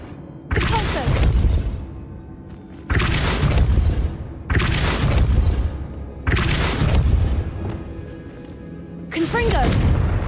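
Repulso spell blasts from a wand in Hogwarts Legacy, a series of loud booming bursts with whooshing tails, roughly five impacts spaced a couple of seconds apart, close and forceful.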